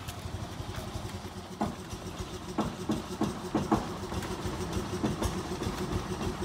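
A kerosene-fuelled engine keeps dieseling on after being switched off, a rough, uneven low rumble with irregular knocks and pops, continuous and fairly close.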